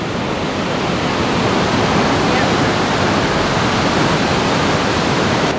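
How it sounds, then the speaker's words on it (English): Apsley Falls in flood roars with a dense, constant rush of heavy falling water, loud and unbroken throughout, with no speech over it. "There's so much water coming down there."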